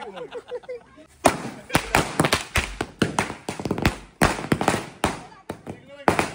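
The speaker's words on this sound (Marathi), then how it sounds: "पोराला फटाके वाजवून सगळं काम येतं बघा" Diwali firecrackers burst in rapid, uneven bangs and crackles, one after another, with people's voices heard between the pops.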